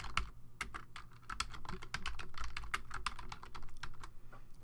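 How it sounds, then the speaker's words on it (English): Rapid keystrokes on a computer keyboard while text is entered into Photoshop, a steady run of close, crisp clicks with no talking. "let's go ahead and type this in."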